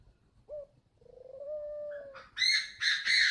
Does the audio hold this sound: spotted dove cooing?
yes